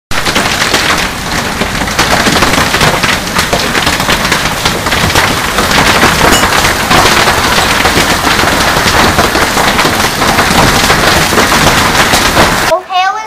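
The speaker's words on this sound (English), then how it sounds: "It's October 17th, and it is hailing." Hail falling on an October day, a dense, steady patter of ice pellets striking and bouncing on the ground, loud and continuous throughout, ending abruptly near the close.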